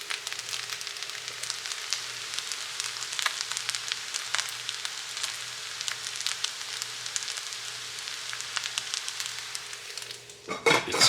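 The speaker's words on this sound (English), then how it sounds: "every few minutes, I have flipped it by scraping underneath it" A spatula scrapes and flips fried rice made from leftover KFC in a hot pan, giving steady scratchy metal-on-pan scraping over a continuous sizzle, close and moderately loud.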